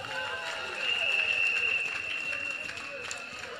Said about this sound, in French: Il faut applaudir le comité très fort.